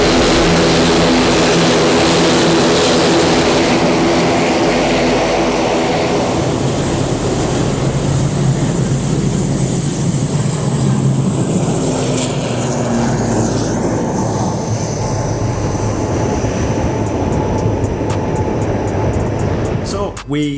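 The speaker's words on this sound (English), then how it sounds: "the plane took off and Eric and Sombrero got back." An airplane takes off at an airport, its loud engine roar filling the air and building to a broad, sustained rumble that shifts in tone as it goes, heard up close and steady throughout.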